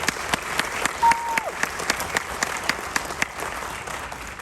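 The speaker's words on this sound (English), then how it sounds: "Round of applause for that team." Audience applause at a high school athletic awards ceremony honoring a 4x relay team, a steady dense wash of many hands clapping with sharper individual claps standing out, sustained and fairly loud throughout.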